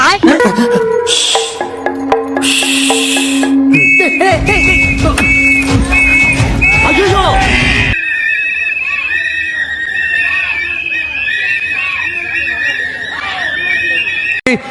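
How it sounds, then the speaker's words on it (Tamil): A whistle blown at a TVK political party gathering gives short, repeated shrill tones over steady crowd noise, with people talking throughout. "இப்போ எனக்கு போர் அடிக்குது விசில் ஊத போறேன்"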